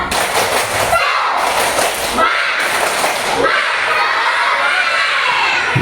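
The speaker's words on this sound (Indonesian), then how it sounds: "tepuk semangat ya, harus lebih semangat dari yang tadi." Schoolchildren in a classroom do a rhythmic spirit clap, with a burst of fast clapping and loud group chanting and shouting in quick, repeated phrases, close and energetic throughout.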